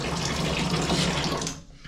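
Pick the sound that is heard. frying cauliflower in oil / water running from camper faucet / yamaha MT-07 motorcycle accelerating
water running from camper faucet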